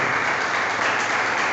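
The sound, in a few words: applause for Jesus in church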